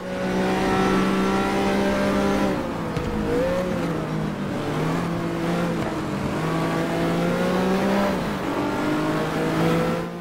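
A Jaguar E-Type engine in the racing game GT Legends revs hard and steadily, its tone rising and falling through gear changes with a faint tire squeal, loud and close with no talking.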